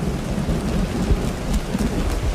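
Steady rain pours throughout with low thunder rumbling beneath, a continuous dense wash of storm sound with no voices.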